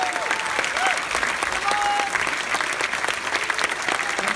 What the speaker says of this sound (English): let's applaud very, very loudly as we welcome to the stage the director, Marc Forster.